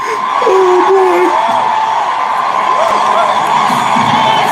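A large crowd cheers loudly and steadily, with whoops and shouts rising above a continuous roar of voices.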